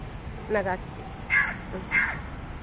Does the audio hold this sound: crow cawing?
yes